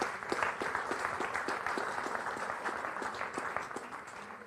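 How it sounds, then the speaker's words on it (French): Seated audience at a French talk on self-determination for supported people applauding the speaker, a steady, moderately distant wash of clapping with a few sharper individual claps throughout. "Eh ben, merci beaucoup, on peut vous applaudir."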